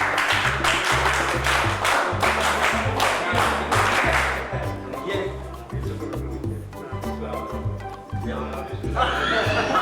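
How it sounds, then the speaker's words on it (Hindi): An audience at a retirement function at a government college applauds loudly and steadily, the clapping thinning and turning patchy toward the end, with rhythmic music or amplified beats and some chatter underneath. "जोरदार तालियों के साथ स्वागत, अभिनंदन।"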